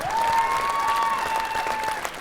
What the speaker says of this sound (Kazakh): Шапалақ ұрды.